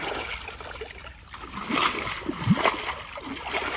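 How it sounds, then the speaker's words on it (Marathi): A hand slaps the water surface while fishing, making irregular splashes and sloshes close by against a steady background of flowing water. "असा हात मारून पाणी उडवतात"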